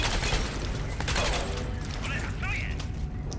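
Crysis 3 weapon fire crackles in a dense, continuous stream of shots mixed with mechanical clatter and brief electronic whines, loud and close under steady game noise.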